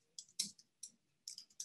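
Faint, close clicks from a computer mouse double-click and keyboard typing come as a few quick separate taps on a quiet desk, with no voices.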